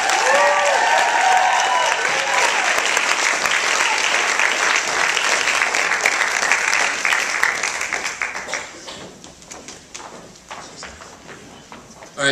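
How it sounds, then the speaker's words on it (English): Audience applause at a university salsa club showcase greeting the executive board, loud sustained clapping that thins and fades out over the last few seconds. "a round of applause for the"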